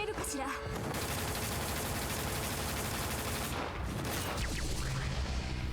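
The Silent Bullets gunfire attack in Digimon Story: Cyber Sleuth roars as a dense, unbroken barrage of rapid shots, loud and steady from start to finish.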